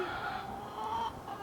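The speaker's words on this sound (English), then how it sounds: "How's the red chicken doing?" Hens cluck softly and steadily in a backyard flock, a close, continuous burble of fowl chatter with no talking over it.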